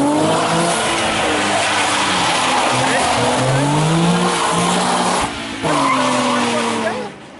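Race car spinning out at a dirt track, tires skidding and engine droning loudly and steadily throughout, with a brief dip near the end, while voices shout over it.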